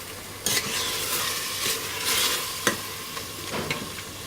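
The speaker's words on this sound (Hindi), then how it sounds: "अब इसमें ये टमाटर डालेंगे।" Tomatoes stirred into a sizzling pan for chana dal qeema: steady frying hiss broken by several sharp spoon scrapes and clinks against the pan, close by, with no voices.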